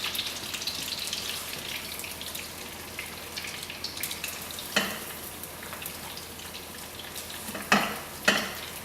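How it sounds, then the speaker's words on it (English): Trout fillets fry in a big pan of bubbling butter, a steady close sizzle with a few sharper spits and crackles toward the end. "You see that butter's kind of bubbling."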